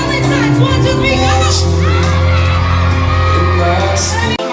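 A loud crowd at a Valentine's celebrity event shouts "Happy Valentine's" together. The cheering voices are dense and sustained, with whoops over them, and end in an abrupt cutoff.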